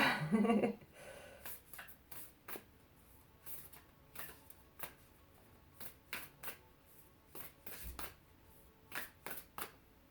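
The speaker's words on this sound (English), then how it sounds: "love decks that shuffle so nice" A deck of tarot-style reading cards being shuffled by hand in a series of quick riffling bursts, close up, separated by short pauses, with a brief louder flutter at the start.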